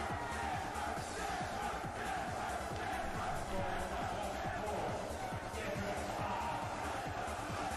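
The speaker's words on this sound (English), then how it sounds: "I would never want a room of all these guys like just cheering" A packed room of shirtless men cheers and yells in a played-back video, a dense, continuous roar of crowd voices at steady loudness.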